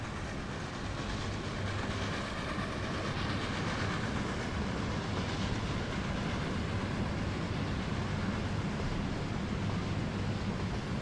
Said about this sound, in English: here comes the log train